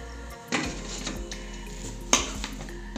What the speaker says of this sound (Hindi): अब ढक देंगे इसको अच्छी तरह से।